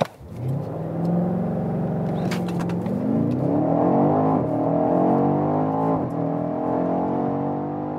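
A BMW X5M or X6M SUV accelerates hard, its engine climbing steadily through the revs in a loud, continuous roar with rising harmonics, close by and uninterrupted, without any talking over it.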